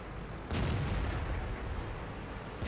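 Tank cannon fire in World of Tanks, a heavy booming shot followed by a rumbling, noisy battle background that stays loud and dense for the rest of the moment.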